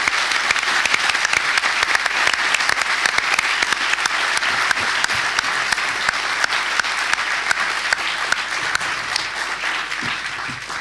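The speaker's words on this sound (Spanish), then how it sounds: "le demos un aplauso a nuestros jóvenes autores" A book launch audience gives loud, steady applause for two young authors, continuous close clapping that holds at full strength and eases slightly near the end.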